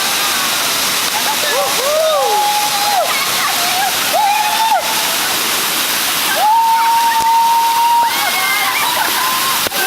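Tinago Falls in Iligan City roars as a loud, steady, unbroken wash of falling water, with people talking close by over it.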